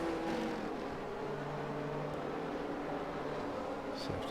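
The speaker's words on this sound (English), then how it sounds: "Safety car just coming up to turn 12." Safety car engine in the F1 22 racing game at the French Grand Prix, a loud steady droning hum holding a constant pitch throughout, with no talk.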